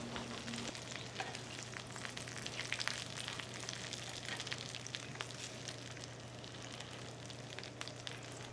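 Chicken pieces sizzling in a cast iron pan, a constant dense crackle that fills the whole stretch, with a low steady hum underneath and no voices.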